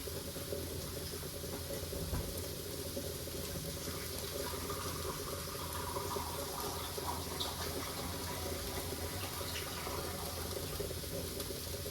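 A quiet, steady stream of water runs continuously, like liquid pouring from a tap.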